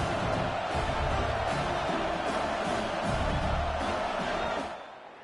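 A home crowd at a college football game, Syracuse at Notre Dame, roars in a broad sustained wall of cheering from the stands, then fades out toward the end.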